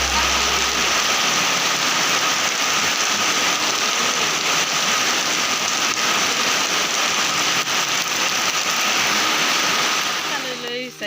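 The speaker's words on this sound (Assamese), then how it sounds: "চাই আছোঁ কৰবা বৰষুণ নেৰে বহুত টাইম হ'ল" Heavy rain pours down steadily in a continuous dense hiss, loud and close, with a low engine-like hum and faint voices underneath.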